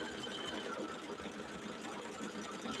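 A sewing machine stitches a wedding quilt with Mylar in steady, continuous free-motion quilting: a dense, even mechanical whir held close to the needle for the whole stretch, with no talking over it.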